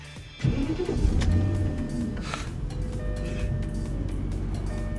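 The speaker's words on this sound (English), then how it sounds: "please start the goddamn car!" A car engine cranks and catches, then settles into a steady idle rumble, close and loud, with a brief rev after starting.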